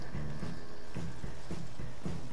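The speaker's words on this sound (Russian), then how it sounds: "тут приехала моя лошадь" A horse arrives in the Western game Red Dead Redemption 2, its hooves clip-clopping in a steady walking rhythm, close and clear over a constant background bed, with no voices.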